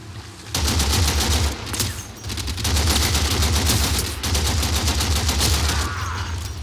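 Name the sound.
gunfire from a basic weapon in the video game Warframe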